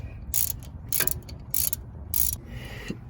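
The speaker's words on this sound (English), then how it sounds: "we're gonna finish taking off these hub bearing bolts on the back of the spindle" Ratchet on an extension clicks through hub bearing bolts on the back of the spindle of a Ford Ranger 4x4, heard as four or five quick bursts of close metallic clicking in an even rhythm.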